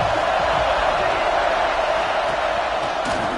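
A packed football stadium crowd roars continuously during a late-game goal-line stand, a dense, steady wall of cheering and noise that never lets up, broad and loud, with no distinct voices standing out.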